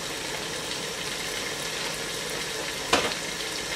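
Arbi and baingan curry with green chillies sizzling and frying steadily in a pan, a continuous close crackle with one brief louder stir near the end.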